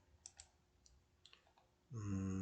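A computer mouse clicks several times while importing Excel data into statistics software; the clicks are faint and sharp, followed by a sudden loud steady tone.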